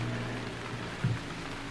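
Steady rain hiss from the point-and-click game Gemini Rue fills the whole stretch, even and unbroken, with one soft low thump near the middle.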